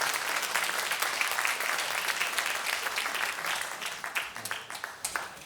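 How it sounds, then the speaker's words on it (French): Audience applause at a community jazz concert by a wind ensemble rises for the musicians. Dense, steady clapping fills the hall and thins slightly toward the end. "applaudissez-les ceux qui sont là"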